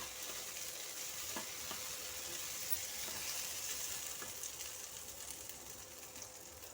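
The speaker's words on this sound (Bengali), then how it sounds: "দিয়ে কেটে রাখা বরবটিগুলো আমি ওর মধ্যে দিয়ে দিলাম। এখন বেশ বাজারে ভালো বরবটি বিক্রি হচ্ছে, দিয়ে এটা একটু ভাজতে হচ্ছে।" Cut yardlong beans frying in a pan in a home kitchen, giving a continuous, even sizzle with faint crackles and occasional stirring sounds, close up with no voices.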